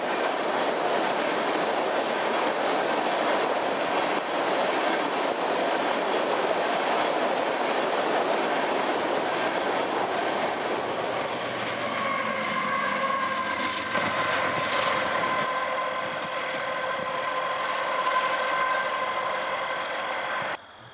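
A BNSF freight train with a rear DPU rolls steadily past near Oklahoma City, with continuous loud rumble and rhythmic clickety-clack of wheels, later joined by high metallic squealing tones.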